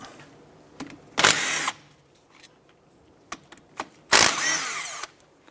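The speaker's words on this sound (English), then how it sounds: "on the back side of our brake caliper, you want to remove this 13mm bolt here and this one up top" A wrench or ratchet turns out the 13mm caliper bolts on the rear brake caliper of a 2006-2013 Chevrolet Impala, two loud bursts of ratcheting clatter with a few small metallic clicks between them, with no one talking.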